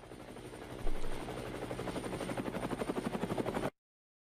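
A helicopter's rapid rotor chop pulses steadily and grows more pronounced, a rhythmic thudding over a dense musical backdrop from a Turkish diss song before cutting off abruptly.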